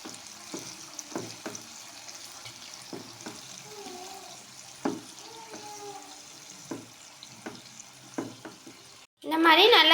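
Chili powder being stirred into gooseberry pickle in a pan: rhythmic scraping strokes of a spoon over a faint sizzle, about a dozen evenly spaced, ending in a sudden loud rushing burst.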